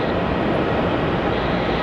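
An airliner departing runway 27 at Melbourne Airport, a steady broadband engine roar that fills the whole clip at constant loudness.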